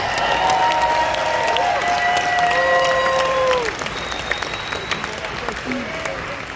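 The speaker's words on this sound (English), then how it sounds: "nice round of applause for Steve and Gina Merritt" An audience applauds and cheers for Steve and Gina Merritt at an organizational gathering, a full crowd clapping that thins out partway through, with whistles and voices mixed in.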